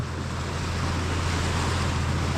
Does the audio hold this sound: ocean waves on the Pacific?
yes